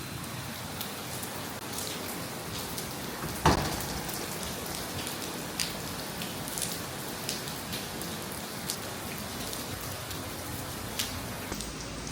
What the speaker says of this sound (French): je viens de me faire attaquer par la pluie là